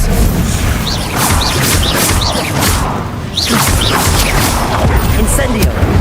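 Spell-casting effects from the video game Hogwarts Legacy, with the Expelliarmus disarming charm among them: repeated whooshing bursts, impacts and crashes over a dense, loud game soundscape, and speech mixed in.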